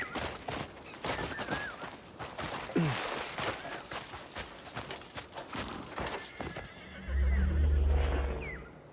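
A horse whinnies amid clip-clopping hooves and a busy layer of game sounds in the video game Crimson Desert, with a heavy low rumble near the end.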